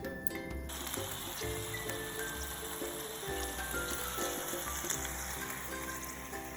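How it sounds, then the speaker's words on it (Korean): Pork belly sizzles steadily in a pan over medium heat, a faint, even crackle of frying fat with no talking. "처음에는 삼겹살을 골고루 익혀준다는 느낌으로"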